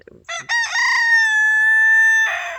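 A rooster crows once, close and loud, a drawn-out call that breaks into a ragged ending, preceded by a few short clucks.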